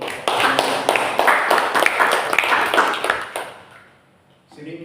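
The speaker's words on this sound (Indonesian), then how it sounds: "mari kita memberi tepuk tangan" Short burst of audience clapping at a church fellowship gathering in Papua, a brisk spatter of hands that stops after a few seconds, leaving near silence before a voice returns.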